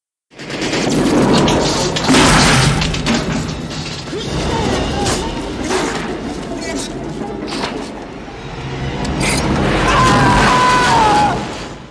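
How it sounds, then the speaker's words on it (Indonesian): A grenade blows up in an action film, with crashing, booming debris and rumble continuing for several seconds while a voice talks over it. "Cobra langsung menembak granat tersebut hingga meledak"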